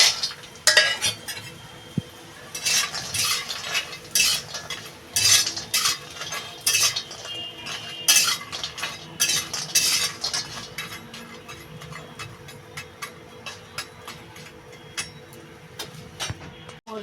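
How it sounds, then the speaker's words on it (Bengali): Lentil bori frying in a pan for shukto, heard as repeated sharp metallic clinks and scrapes of a spatula against the pan over a quiet low sizzle, uneven bursts of stirring coming close together. "সবার প্রথমে আমি ডালের বড়িটা ভাজবো এই বড়িটা ভালো করে ভেজে নেবো"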